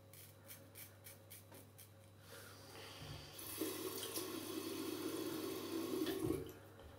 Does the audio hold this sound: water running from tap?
yes